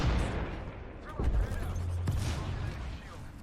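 Grenade blast and gunfire in the video game Apex Legends, a deep boom and scattered sharp shots ringing out over a low rumble, with a voice talking briefly amid the fighting.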